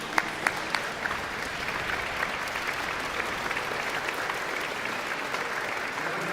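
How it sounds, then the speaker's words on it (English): Graduates at a graduation ceremony stand and applaud their mothers, producing steady, dense applause from a large crowd that stays even throughout, with a few sharper claps near the start. "I'm going to ask graduates to get up and applaud your mothers"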